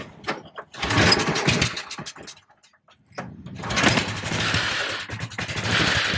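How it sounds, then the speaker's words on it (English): A 1966 Arctic Cat Panther snowmobile with its original Kohler engine cranks and fires, sputters briefly, then catches and runs with a loud, rough, rapid popping idle close by. "start it and show a little bit what this Kohler engine can still sound like"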